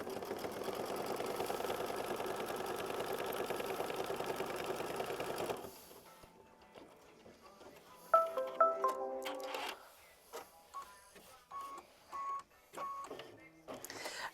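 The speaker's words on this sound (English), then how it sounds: "go ahead and sew machine stitch step 8" A sewing machine stitching fabric, a steady mechanical whir for several seconds that then stops, followed by scattered small clicks, beeps and handling noises from the machine.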